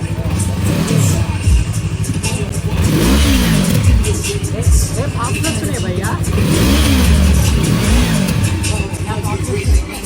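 A Yamaha twin-cylinder motorcycle engine revs loudly at a race track chicane circuit track day, rising and falling in repeated throttle sweeps, close and continuous throughout.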